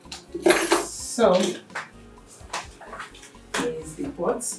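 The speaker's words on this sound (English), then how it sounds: "here's the pot. Pour the water and put it on the fire." A metal pot clanks and rattles as water is poured into it for cooking, splashing in bursts with clinks of utensils, close by and with voices talking over it.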